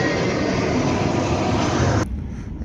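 A propeller or engine airplane passes overhead, a loud, steady droning roar that drops off abruptly near the end, heard outdoors during a Ford Triton V8 oil change.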